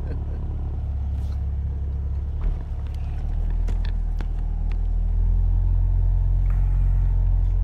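A Porsche 944 engine runs while driving, a steady low rumble heard from inside the car that rises and thickens as it pulls along, with a few faint clicks and knocks over the drone.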